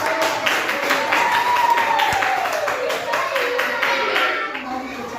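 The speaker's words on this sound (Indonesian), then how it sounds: "Tepuk tangan dulu" A group of children in an elementary school classroom claps hands steadily for several seconds, fairly loud and close, with voices mixed in underneath.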